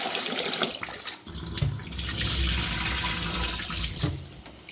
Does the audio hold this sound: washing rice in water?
yes